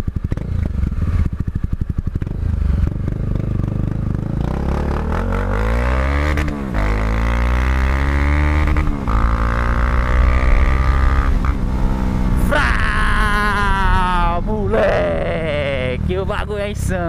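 A motorcycle leans through a run of curves, its engine note climbing and falling in long continuous sweeps as it accelerates and eases off, loud and close throughout with wind noise.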